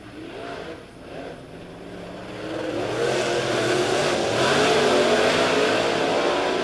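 Dirt track Super Late Model race cars roar through a heat race at Lebanon Midway, a dense pack of engines swelling from a distant drone into a loud, sustained wall of revving as the cars pass close.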